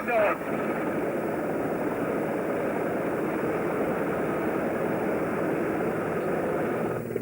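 A steady helicopter engine drone runs throughout, loud and continuous like a rescue helicopter idling nearby at the seaside, with a brief burst of noise at the start.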